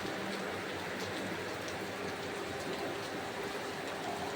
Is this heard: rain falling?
yes